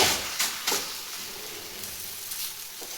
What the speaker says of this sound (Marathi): आणि तव्यावरती असं टाकून घ्यायचं आहे